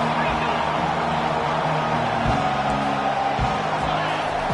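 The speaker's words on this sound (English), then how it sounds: "Decibels rising as the crowd gets behind this defense on third down" A dense football stadium crowd roars steadily and loudly on third down, a continuous wall of cheering and noise with no breaks.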